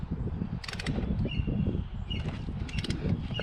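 A torque wrench tightens a spark plug in a Nissan Altima's 2.5L QR25DE engine, giving a rapid run of close, quiet ratcheting creaks and clicks, with a few brighter metallic ticks.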